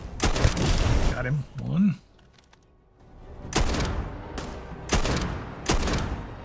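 Sniper rifle shots in the video game Starfield: three loud, sharp reports spaced about a second apart, following a stretch of talking and a short quiet gap.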